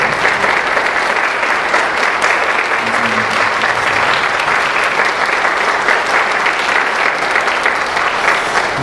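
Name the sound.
congregation applause welcoming ambassador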